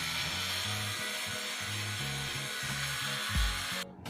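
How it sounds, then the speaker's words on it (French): An electric toothbrush hums faintly while brushing teeth, its buzz broken into short bursts with brief pauses, ending in a small clatter. "J'utilise une brosse à dents électrique."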